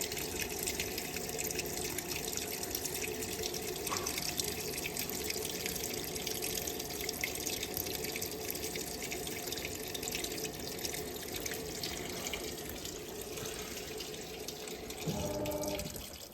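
Water runs steadily into a washing machine in Japan as it fills, a continuous broad rush with slight dripping, close and unbroken for the whole stretch, with no voices.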